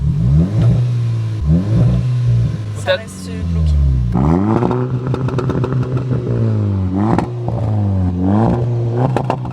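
A tuned Volkswagen Golf 6 R revs hard with a rising and falling engine note, loud and close. People keep talking over it the whole time.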